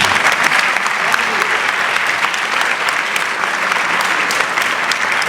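Loud, sustained audience applause fills the hall at a Laughter Brigade comedy gathering, a dense, steady wash of many hands clapping without pause.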